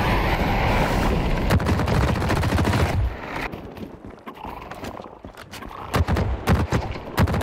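Rapid bursts of gunfire from a heavy-recoil weapon in The Cycle Frontier, a dense clattering volley that breaks off, then resumes as scattered loud shots and short bursts.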